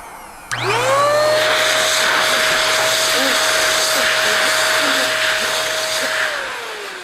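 A MaxShine Mini handheld car dryer spins up with a rising whine, then blows filtered warm air in a loud, steady, close whoosh with a constant high tone before winding down at the end.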